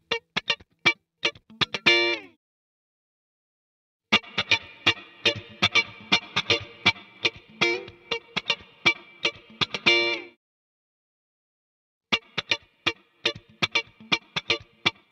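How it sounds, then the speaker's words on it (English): Funk-style electric rhythm guitar played solo, treated with chorus and reverb: bursts of short, crisp strummed chords in tight syncopated rhythm, separated by gaps of silence, close and fairly loud with no voices. "That electric rhythm guitar is sounding pretty dry. Let's add some chorus and reverb effects"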